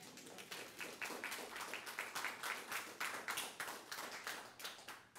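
A crowd applauds steadily for several seconds at a political campaign event, a dense patter of many hands clapping at moderate volume with no voices standing out.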